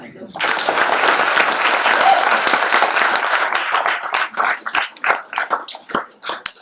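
Audience applause at a stage performance of the Hindi play Sharshaiya Ka Prayashchit: a sustained, dense clapping roar that fades into scattered, uneven claps near the end.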